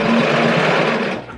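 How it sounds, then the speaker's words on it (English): A sewing machine stitches a short line on quilt fabric with its stitch length set to 2.5, giving a steady, close, continuous motor whir that holds for about a second before winding down. "I'm just going to sew a little line down here and see how it gets on"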